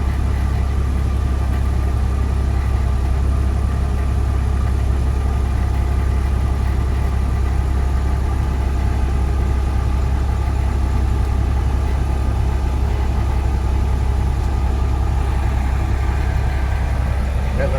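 A truck engine idles steadily throughout, a constant low rumble with an even mechanical hum and no other sounds.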